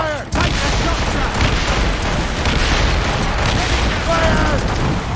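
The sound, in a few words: naval cannon fire from the video game Assassin's Creed Rogue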